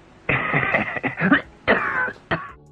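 An older man with a cold coughs repeatedly, a series of close, hoarse bursts with short gaps and a final short cough, alone without talk.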